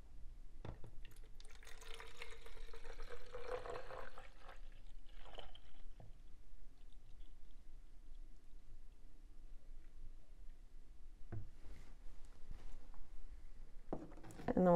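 Homemade foaming hand wash is poured into a container, a soft liquid trickle and gurgle building for a few seconds then fading, followed by quiet handling clicks, close and faint.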